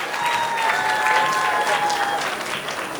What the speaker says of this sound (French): Est-ce qu'on peut applaudir très fort encore pour Amida?